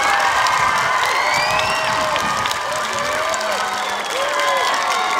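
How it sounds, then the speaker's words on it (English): A crowd applauds and cheers at an elementary school ribbon cutting for a new building, with sustained clapping, children's shouts and whoops spread across the space, moderately loud and continuous. "I want to give a round of applause for all of our Cardinals."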